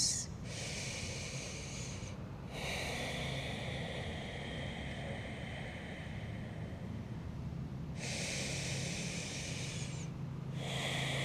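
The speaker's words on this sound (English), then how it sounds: "Deep breaths." Slow, deep breaths during a gentle yoga session, long airy inhales and exhales rising and falling in broad hissing swells, near and fairly quiet, with no talking.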